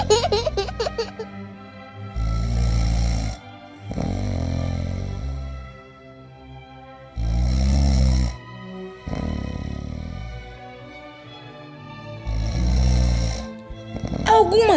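A storyteller's voice imitates loud snoring, repeating long rasping inhale-and-exhale snores in a slow rhythm with short pauses between them, alone and close.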